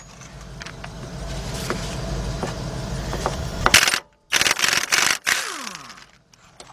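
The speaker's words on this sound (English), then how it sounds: "Let's see if I can get my air gun in there now" Pneumatic air impact gun on a wheel bearing bolt of a Ford Explorer front hub, heard first as a steady rattling hum, then loud close rapid hammering bursts separated by brief pauses.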